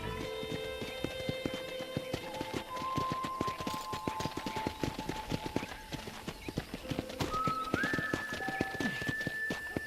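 Rapid hoofbeats of a galloping horse in Red Dead Redemption pound continuously, mixed with game music tones and a brief whinny-like sound.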